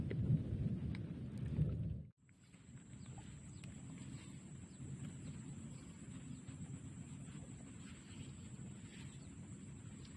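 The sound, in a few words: rain falling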